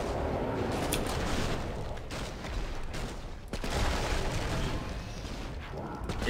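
Continuous gunfire rattles through the zombie shooter Killing Floor 2, with dense overlapping shots and booms filling a chaotic fight, loud and sustained across the whole stretch.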